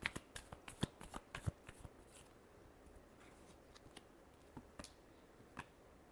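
Tarot cards are shuffled by hand, a quick burst of crisp riffling snaps at first, then sparser, softer flicks, close and quiet with no talk.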